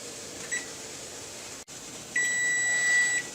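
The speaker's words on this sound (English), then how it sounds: "we'll set the kitchen timer for 30 minutes." A kitchen timer beeps: one short electronic chirp, then a sustained high beep for about a second over a steady background hum.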